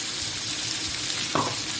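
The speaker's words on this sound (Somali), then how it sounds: "kadib markay xoogaa shiilmaan isku shiilmaan" Somali suqaar with okra sizzles steadily in a pan as it fries, a dense close hiss with a brief clatter of stirring near the end.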